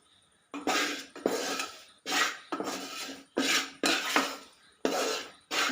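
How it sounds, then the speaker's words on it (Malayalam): Ground rice flour roasting in a pan on the stove for Kerala-style rice balls, heard as a series of about seven loud, close scraping and rasping strokes in an even rhythm, with short gaps between them and no talking. "ഇനി ഇത് വറുത്തെടുക്കാം."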